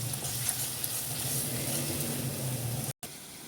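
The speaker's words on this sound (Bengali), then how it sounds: "হলুদ গুঁড়ো, লঙ্কা গুঁড়ো, একটু জল দিয়ে ভালো করে কষিয়ে নেব" Turmeric and chili powder frying with a little water for ghugni, giving a steady, fairly quiet sizzle and bubbling that runs throughout with a brief dropout near the end.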